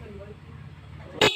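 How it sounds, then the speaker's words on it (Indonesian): Motorcycle stereo horn fitted as a two-horn, single-button setup sounds one short loud blast near the end, after a stretch of quiet background hum. "klakson stereonya sudah berhasil"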